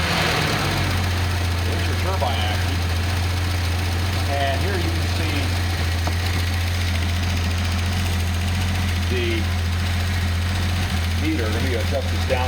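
A Datsun 280ZX turbo engine runs steadily with its turbocharger spinning, giving a continuous low mechanical drone throughout. Someone talks over it now and then.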